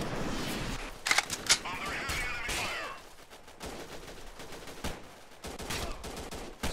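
Rapid bursts of gunfire ring out in the war game Freeman: Guerrilla Warfare, several sharp volleys crackling close by while someone talks over the shooting.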